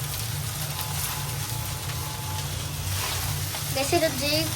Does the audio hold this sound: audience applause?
no